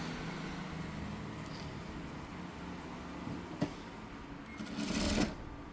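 A domestic sewing machine stitches a shirt with a steady, fast mechanical whir that stays even throughout, with a brief click and a louder burst of rattling near the end.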